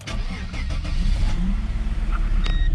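A Mercedes E-Class engine with 138,000 miles cranks briefly and catches, then runs with a rough, uneven misfiring idle, close and fairly loud with no talking.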